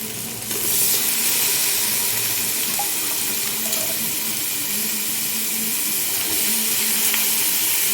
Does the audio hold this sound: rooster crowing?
no